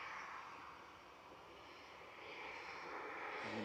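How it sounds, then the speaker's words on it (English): A Jet2 airliner touches down at Manchester Airport, heard as a steady, broad roar of engines and rushing air at moderate distance, swelling slightly toward the end, with no talk. "Oh yeah, Jet 2, just touching down now."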